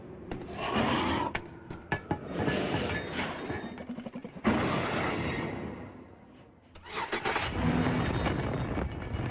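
Engine starting and revving of a Chevy Impala with a 303-horsepower small-block V8, loud and close with bursts of acceleration and a brief dip before surging again.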